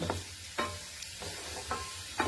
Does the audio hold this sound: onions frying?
yes